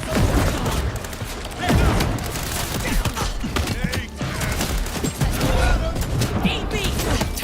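Enemies fire guns in Vampire The Masquerade Bloodlines 2, a dense and continuous barrage of close shots and impacts with shouting voices mixed in throughout.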